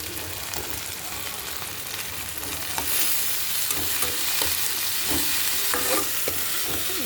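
Vegetables and tomato stir-frying in a pan for a veg momo filling: a steady close sizzle with scraping stir strokes that grow louder and busier partway through, no talk.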